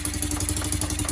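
A 2008 Kawasaki quad with an exhaust leak idling close by: a steady, fast-pulsing engine putter with a raspy, ticking edge, briefly and alone.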